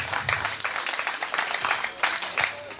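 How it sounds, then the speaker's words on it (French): A crowd applauds a student's prize at a school prize-giving ceremony: dense, continuous clapping that holds steady throughout, heard from a moderate distance. "Sous vos applaudissements."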